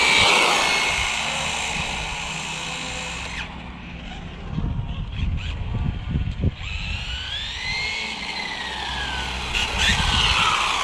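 Rlaarlo AK-787 RC car driving fast, with a loud high-pitched electric motor whine that rises and falls in sweeping pitch bends, broken by a rougher stretch of scrabbling tyre and gravel-like noise in the middle.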